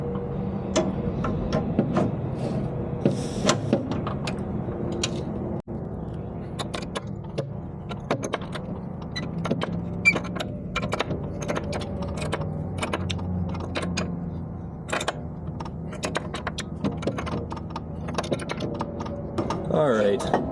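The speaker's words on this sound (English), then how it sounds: "I'm starting to turn the big wrench because I can't use the small wrench anymore" Rapid metallic clicks and ratcheting taps from a big wrench turning a rusted eye bolt on a BOSS 9'2" DXT snow plow, steady and close for about twenty seconds over a low background rumble.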